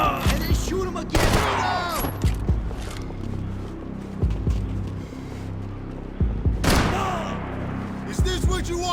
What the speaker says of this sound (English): And then shoot him again.